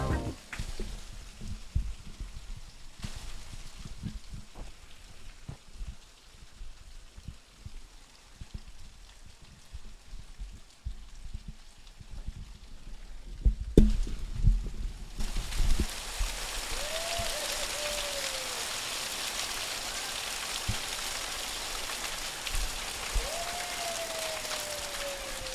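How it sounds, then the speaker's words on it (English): Hail falls during a cruise on the Colorado River. Scattered close ticks and taps at first swell into a dense, loud, steady hiss and patter, broken by faint rising whistles. "There was some hail there. I think we could hear it."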